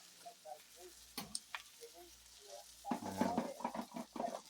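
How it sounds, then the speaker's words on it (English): A short clatter of ice cubes from an ice maker tumbling into its bin, a few quiet knocks before a louder rattling cascade near the end. "It's just dumping in another load of ice."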